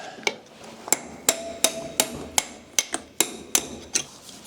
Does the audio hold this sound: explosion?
no